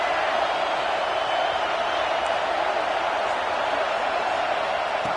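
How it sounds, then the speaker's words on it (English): A dense, loud roar of a big college football stadium crowd in a video game holds steady throughout, a wall of cheering noise with no pauses. "here comes the noise. This crowd is trying to inspire this defense to make a big red zone stop."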